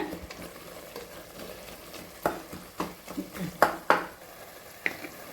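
Coriander and mint sizzle in a pan of fried onion and tomato for chicken biryani, with a spatula scraping and knocking against the metal in a few uneven strokes over a low frying hiss.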